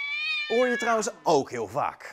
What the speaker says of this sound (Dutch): Een boze kat.